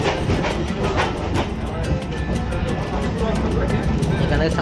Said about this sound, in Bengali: জানি না আমার ট্রেনের আওয়াজ কতটা শোনা যাচ্ছে।